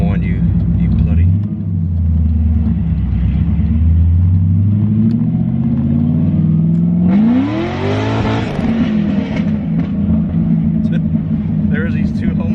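Loud Cadillac CTS-V engine revving up and down with a deep, rumbling roar that rises sharply in pitch midway, heard close and continuous while people talk and shout over it.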